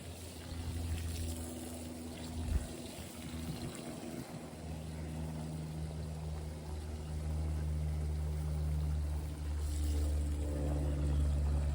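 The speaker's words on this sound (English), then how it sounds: "But I will give them a good drink of water." Water pours steadily onto newly planted ferns in a driveway garden, a continuous rushing trickle heard close, with no talking.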